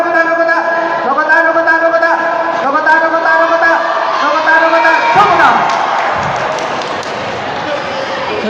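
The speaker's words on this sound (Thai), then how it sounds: "ฟังเสียงกองเชียร์เป็นระยะเด้อเจ้า" Supporters at a youth sumo championship cheer and chant in rhythmic bursts from the stands, loud and close, mixed with a commentator talking over them.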